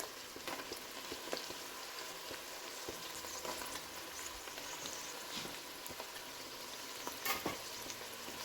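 Green pepper frying for chili in a pan: steady, fairly faint sizzle with light crackles and a few stirring scrapes near the end, no voices.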